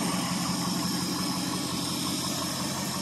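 A 1970 Ford F100 Ranger's 390 FE V8 idles steadily after sitting 21 years undriven, a close, even, continuous rumble with a faint hiss and no voices.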